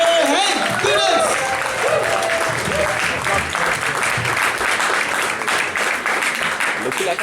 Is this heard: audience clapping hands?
yes